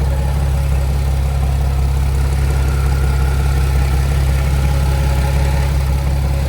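A Porsche 997 flat-six with a 5-speed Motorsport intake idles steadily and smoothly, a constant close low rumble with no ticking or rough beats, heard alone throughout.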